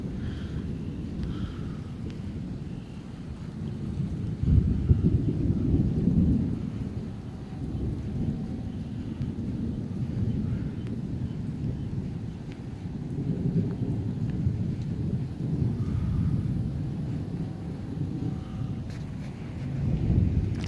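Rolling thunder from a lightning storm rumbles low and continuous, swelling in heavy waves with faint rain and wind underneath, no voices.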